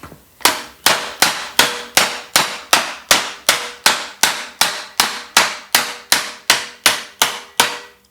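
A hand hammer taps the edge of a sheet-metal workpiece in an even, unhurried rhythm, about two ringing, metallic strikes per second, each sharp and close with a quick decay, and no voices.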